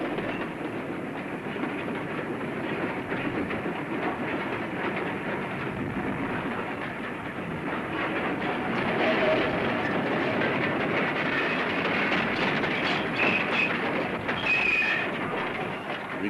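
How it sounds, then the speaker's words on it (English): A goods train rolls along the Somerset and Dorset joint line at Highbridge, giving a steady rumbling clatter of wagons with some higher metallic squeal, at moderate distance throughout. "we'll follow the goods train through the town of Highbridge to its"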